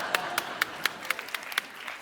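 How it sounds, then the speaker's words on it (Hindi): A small studio audience at a comedy show gives a sparse round of clapping: about ten separate handclaps, fairly faint and irregularly spaced over a quiet background. "तालियां!"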